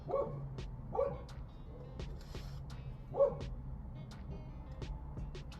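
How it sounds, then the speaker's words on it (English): A dog on patrol barks in short, muffled bursts spaced a second or so apart, set against a low, steady background hum, with no speech. "I'm not gonna stop a dog from being a dog."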